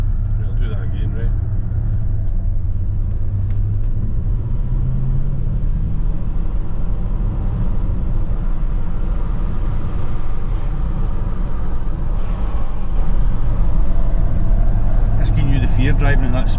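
A Range Rover L405 being driven after an EGR valve and cooler replacement gives a steady, loud low rumble of engine and road from inside the cabin, with people talking over it throughout.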